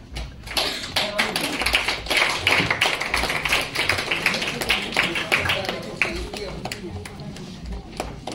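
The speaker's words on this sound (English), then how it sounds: "A big round of applause once again to all the winners." Audience at a music competition prize distribution claps for the winners, a steady patter of hands with distinct individual claps, under a voice speaking over it.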